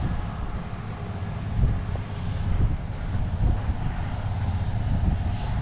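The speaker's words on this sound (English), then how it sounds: "there's the Fent mower coming along now" A blue Fendt 175 tractor with a mower rolls past on a farm during silage season, giving a steady loud engine drone with some wind rumble that swells slightly as it nears. No speech.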